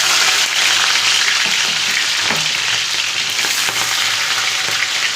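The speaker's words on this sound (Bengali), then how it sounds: "আমি প্রথমে বিনসটা দিয়ে দেবো, কারণ এটা একটু ভাজতে সময় লাগে" Green beans frying in hot oil for homemade chow mein, a loud, dense, continuous sizzle heard up close with faint scrapes from occasional stirring and no voices.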